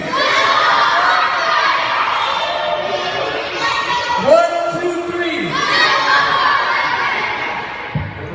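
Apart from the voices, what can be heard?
audience yelling together on the count of three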